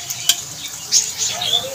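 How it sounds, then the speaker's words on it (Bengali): Onions frying on low heat in a pan on a gas stove, a light sizzle under repeated spoon stirring and clinks against the pan, close and fairly loud. "তো আমি এবার গ্যাসটাকে সিম করে দিয়ে পেঁয়াজটাকে এখানে হালকা লাল করে ভেজে নেব।"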